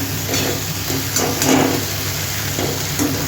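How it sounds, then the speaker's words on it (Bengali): A spice masala fries in a pan with a splash of water added, making a continuous dense sizzle that swells briefly as it is stirred, heard close with no voices. "মশলাটা আমি কষিয়ে নিই"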